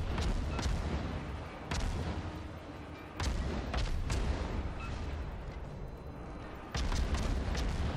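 Naval gunfire from the cruiser Pensacola in the game World of Warships: repeated heavy booming salvos land every second or two over a steady low rumble of battle noise, loud and close.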